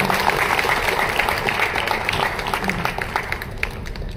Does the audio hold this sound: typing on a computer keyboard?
no